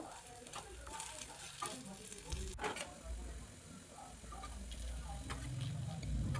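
Potato pieces for a Kerala-style prawn roast fry in hot oil, a soft continuous sizzle with occasional ticks and a utensil clink, fairly quiet and close.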